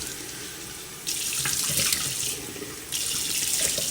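Water runs from a tap into a sink while someone splashes their face to rinse off a facial peel, with a steady hiss and two louder bursts of splashing.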